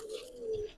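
Giribaz pigeons give a faint, brief low coo, two short soft tones heard close by with no talk.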